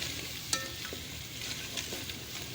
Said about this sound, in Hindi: और अच्छी तरह भून लेंगे